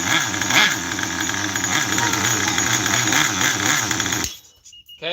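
Close, steady idle from an engine running rich, a rough low chugging with constant hiss over it for about four seconds. It then cuts out abruptly into near quiet.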